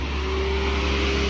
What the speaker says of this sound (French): va assister au démarrage de la 458 Italia